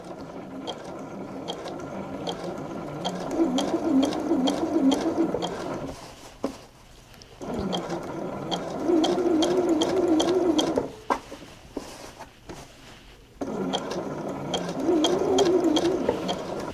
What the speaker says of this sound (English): I'm sewing on the lining side